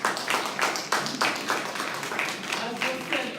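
Audience clapping at a stakeholders' conference for two gentlemen, several moderate rounds of hand claps coming in rhythmic pulses through a reverberant hall.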